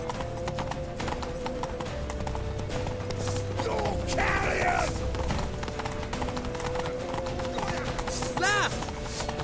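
Rapid clip-clop of galloping horse hooves runs steadily throughout, with creaking, clattering movement, a brief neigh, and voices mixed into the busy scene in the video game The Witcher 3.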